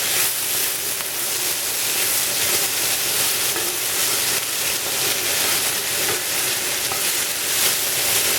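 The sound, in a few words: vegetables frying in a pan for Spanish rice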